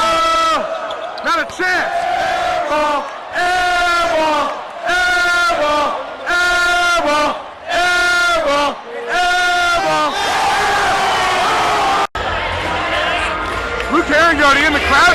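Crowd in a college basketball gym at a Notre Dame game roars and yells loudly and steadily, with a commentator talking over the noise.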